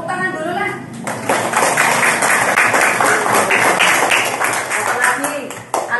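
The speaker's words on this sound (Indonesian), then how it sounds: "Tepuk tangan dulu lah" Classroom of children clapping their hands together in a loud, fast, uneven burst that fills the room, with a teacher's voice and children's chatter mixed in at the start and end.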